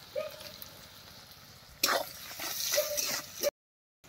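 Onion fries with salt in a pan, giving a soft steady sizzle that rises sharply with a few quick stirring scrapes before cutting off abruptly.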